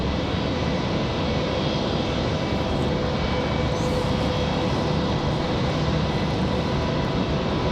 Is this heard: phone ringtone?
no